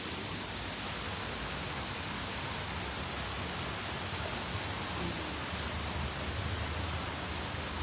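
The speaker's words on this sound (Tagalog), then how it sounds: "Dito tayo ma-stranded sa simbahan sa malakas na ulan." Heavy rain pours at a church, a steady broadband hiss that stays even and unbroken throughout, with no voices.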